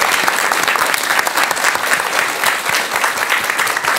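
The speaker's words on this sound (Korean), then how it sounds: "큰 박수 한번 부탁드릴게요" An audience claps warmly after a monk's lecture, a dense, steady patter of many hands that stays loud and sustained throughout.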